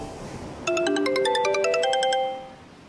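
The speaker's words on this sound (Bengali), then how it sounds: "ফোন।" A mobile phone ringtone plays a bright, repeating melodic tune of electronic tones, starting abruptly and continuing for about a second and a half before fading out, with no talking over it.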